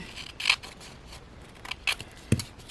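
Scissors snip through paper for a junk journal cover, a few quiet crisp cuts spaced apart with a soft thud near the end, close by and with no talking.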